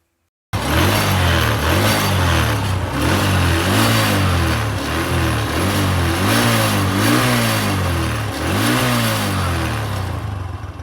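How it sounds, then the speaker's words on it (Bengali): A repaired motorcycle engine starts on the first try and runs loud and close, with a steady mid-pitched rumble and a few rising revs throughout. "প্রথম কি স্টার্ট নিয়ে নিল কোনো ধরনের সমস্যা ছাড়াই"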